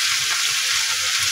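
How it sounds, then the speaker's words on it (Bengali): Onion frying with garlic and ginger paste sends up a loud, continuous sizzle close by, an unbroken bright hiss with faint low stirring bumps and no voices. "রসুনের আর আদার কাঁচা গন্ধটা যাওয়া পর্যন্ত আমি ভেজে নেব।"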